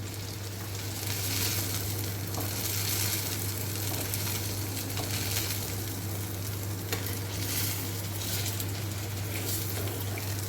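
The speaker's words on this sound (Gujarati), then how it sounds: "તો બંને સાઈડ આપણી ટીકી શેકાઈ ગઈ છે." Chhole tikki patties fry in a pan, a steady loud sizzle with a constant low hum underneath and occasional small pops and crackles, no voices.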